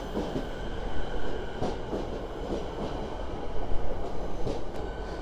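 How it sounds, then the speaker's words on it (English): An arriving train at Richmond Station in Melbourne, pulling into platform 3 with a steady broadband rumble, wheel clatter and faint squeals, moderately loud and close, with no talking. "My train here at Richmond Station has now just arrived, and actually on platform 3"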